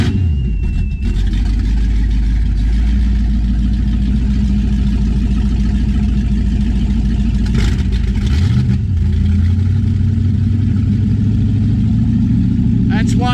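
Twin big-block 502 V8 boat engines on a Scarab 33 rumble loudly at idle with deep, throbbing low tones, rising briefly in a rev before settling back to a steady growl.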